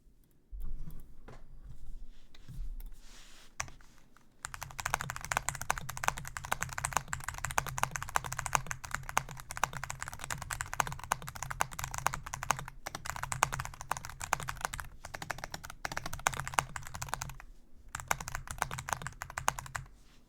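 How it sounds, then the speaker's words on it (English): Rapid clacking keystrokes on a Hall Effect computer keyboard during a typing test, a few scattered taps at first, then a dense, fast, continuous patter close up. "I'm gonna do a quick typing test"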